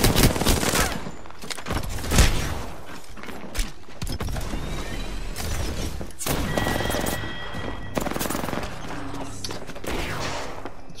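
Gunfire in the shooter game Arena, with bursts of shots and loud cracks scattered through a dense, busy game soundscape, over steady background noise and no talk.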